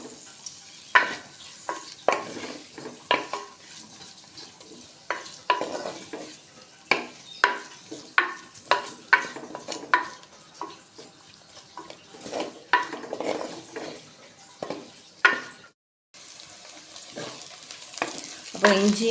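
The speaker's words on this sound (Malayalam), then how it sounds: "ഇത്രയും കൂടെ ഇട്ട് നന്നായിട്ട് വഴറ്റിയെടുക്കണം." Garlic, ginger and curry leaves, with onion, sauté in a pan for a beef milk curry, giving a steady low sizzle broken by repeated sharp scrapes and clinks of a spoon against the pan, close and moderately loud.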